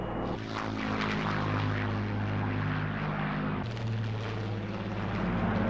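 A Spitfire warbird's piston engine roars loudly and steadily as the aircraft flies over at an airshow, a thick droning growl with a strong low hum that shifts pitch slightly as it passes.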